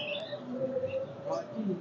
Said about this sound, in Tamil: பேர்ட்ஸ் எல்லாம் குருவி.